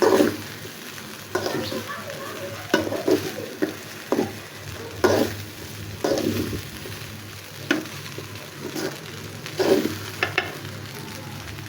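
Fried rice is stirred with fried eggs in a pan, producing a continuous sizzle broken by repeated scraping and clanking strokes of the utensil at an irregular rhythm, close and fairly loud.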